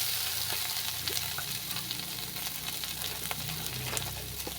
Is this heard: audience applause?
no